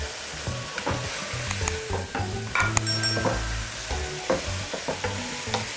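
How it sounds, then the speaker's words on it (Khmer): Chili, spice paste and meat stir-fried in a pan, loud close sizzling with repeated scraping and clanking strokes of a utensil against the pan, irregular and busy throughout. "ឥឡូវនេះយើងលីងគ្រឿងហើយនឹងសាច់យើងបានល្អហើយ"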